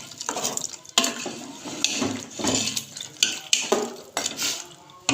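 A spoon scrapes and clatters against a pot as dry coriander and spices are stirred into beef, with sharp intermittent knocks and scrapes repeating irregularly at close range.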